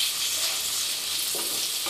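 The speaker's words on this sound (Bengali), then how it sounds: "এখন এক দুই মিনিট আমি ভাজবো" Chopped onion and crushed garlic fry in a pan for a Noakhali-style domacha curry, giving a steady, close hiss of sizzling oil with faint stirring scrapes throughout.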